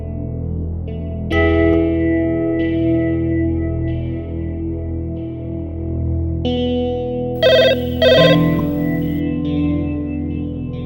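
An electronic phone ringtone plays in repeated tonal bursts, with a brighter, louder chime near the end; no voices.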